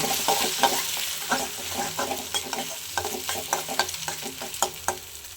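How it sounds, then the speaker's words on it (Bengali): Finely chopped peas, potato, onion and beans frying in a pan with two eggs, heard as a steady close sizzle broken by rhythmic scraping and stirring strokes of a spatula, no talking. "সবজিটা প্রথমে ভাজা করে নিয়েছি আর তার এখানে দিয়ে দিলাম দুটো ডিম"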